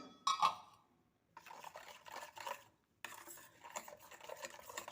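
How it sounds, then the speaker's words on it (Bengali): Bun dough ingredients being mixed in a bowl for custard cream buns, quiet close bursts of spoon stirring and scraping against the bowl, separated by brief pauses. "সব উপকরণ আবারও একটু মিশিয়ে নিলাম"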